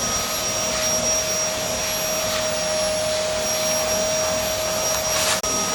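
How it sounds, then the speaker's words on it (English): Angle grinder fitted with a diamond cutter or steel disc trimming a weep hole cover, a steady loud broadband whine running throughout, with a sharp dip just before the end. "Get your angle grinder, diamond cutter. It could be anything, just a steel disc, and trim it off."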